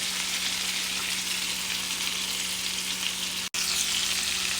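Pieces of seasoned roast beef searing on each side in a hot pan, giving a dense, even hiss that runs unbroken and close, with a faint low hum underneath and one brief cut near the end.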